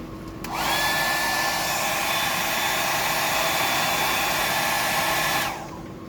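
A hair dryer switches on and blows steadily at close range for about five seconds while drying a fishing fly. It gives a loud, even whoosh with a high whine and then cuts off abruptly.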